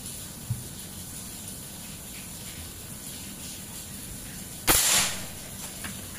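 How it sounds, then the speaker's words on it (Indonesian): A single sharp shot from an AK Lipat Army PCP air rifle charged to 4000 PSI, a sudden loud crack with a brief hissing tail near the end, heard alone over quiet outdoor background. "Tembakan kedua"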